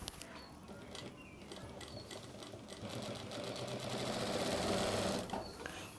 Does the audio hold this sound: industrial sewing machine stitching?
yes